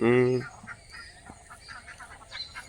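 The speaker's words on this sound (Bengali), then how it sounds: "হাঁসগুলো খুব মজা করে চড়ছে সকালবেলা জলে" Ducks feeding on water in the morning: one loud, close honking quack opens, followed by softer, scattered calls and faint water sounds.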